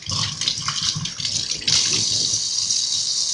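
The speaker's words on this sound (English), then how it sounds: "So I'll finish rinsing them out and washing them" Tap water runs while hair extensions are rinsed, a steady close splashing rush with a brief surge partway through, alone without speech.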